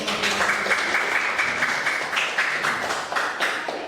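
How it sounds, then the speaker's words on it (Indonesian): Classroom group of participants applauds one presenting group during a teacher training session, a dense, steady burst of clapping lasting several seconds with no talk over it. "Tepuk tangan untuk kelompok 1."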